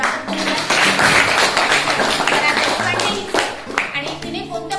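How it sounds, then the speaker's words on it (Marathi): Audience applause for two students invited onto the stage at a girls' school event, heard as dense, sustained clapping with a few voices over it. "सर्वप्रथम आपण जोरदार टाळ्या वाजवून स्वागत करूया."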